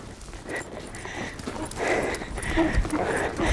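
Hooves of a horse cantering in a riding lesson arena thud in a soft, steady rhythm at moderate distance, with faint background noise and a few brief sounds in between.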